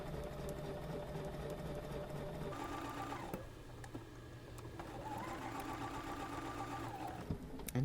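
A sewing machine stitches a scant quarter-inch seam on a quilt block, running steadily and close with a continuous mechanical whir that pauses briefly near the middle before resuming.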